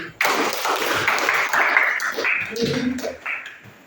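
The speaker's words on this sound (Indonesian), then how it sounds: "nah sekarang tepuk tangan lagi." A classroom group claps hands together in a dense burst of rapid, close claps lasting a few seconds before trailing off.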